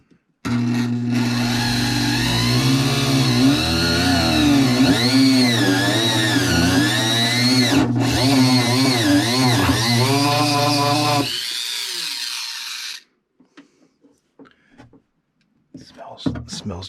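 A power tool working fiberglass on a 58-inch Central RC fountain boat build, a loud close whining motor for about eleven seconds with pitch rising and falling under load, then dropping away to faint handling noises.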